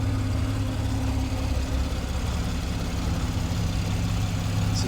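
A 2015 Porsche 911 Carrera S Cabriolet with a 3.8-liter flat-six and 7-speed PDK idles steadily, a continuous low rumble heard up close with no talking over it.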